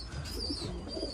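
Pigeon cooing in a loft of young birds, soft low repeated coos running through the whole short stretch with no talk over them.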